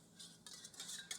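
A whisk scraping and swishing quickly through caramel sauce in a pot, a short, faint burst of metallic stirring strokes.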